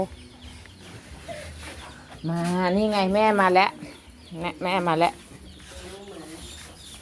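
Farmyard chickens clucking and calling in a rural village, with loud warbling bursts in the middle and softer calls mixed with someone talking nearby.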